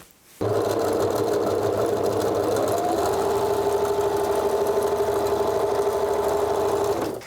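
A sewing machine stitches synthetic padding for a beehive top cushion, starting abruptly and running at a steady, loud, close mechanical whir with rapid needle rhythm for several seconds before stopping.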